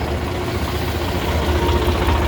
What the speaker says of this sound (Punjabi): ਆਪਣਾ ਟਰੈਕਟਰ ਖੜਾ ਮਸ਼ੀਨ ਚੱਲ ਰਹੀ ਹੈ ਆਪਣੀ ਭਰਾਈ ਕਰ ਰਹੀ ਹੈ